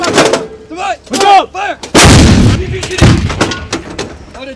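A U.S. Army howitzer fires once with a single loud, booming blast that rolls off into a long rumble, following shouted crew commands.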